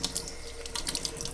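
Tap water pours steadily into a sink, a close, continuous splashing hiss with no break and no voices.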